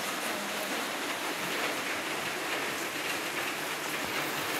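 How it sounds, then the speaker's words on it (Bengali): Heavy rain falling outside, a dense, even hiss that stays constant and loud throughout with no pauses. "বাইরে তো হেভি বৃষ্টি হচ্ছে।"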